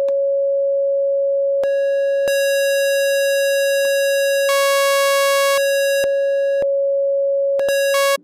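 Simple chiptune-style synth holding one steady tone while abruptly switching among sine, triangle, square and sawtooth waveforms with no crossfade, each change a hard click into a brighter or purer buzz, loud and alone.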